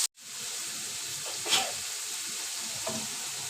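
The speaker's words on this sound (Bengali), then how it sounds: "500 গ্রাম পেঁয়াজ ভেজে নিব।" Five hundred grams of onions fry in soybean oil in a pan, giving a steady close sizzle with a brief surge of spatter partway through and a faint stirring scrape.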